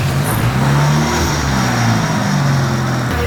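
Engine of a huge 17-foot-long motorcycle given a little throttle, a deep, loud, close rumble that swells briefly and settles back to a steady idle.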